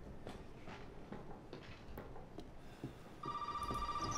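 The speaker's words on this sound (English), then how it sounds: "now the phone rings?" A telephone rings inside the video game Resident Evil 7. Quiet game ambience with scattered soft thuds comes first, then a loud, electronic-sounding, tonal ring starts near the end and keeps going.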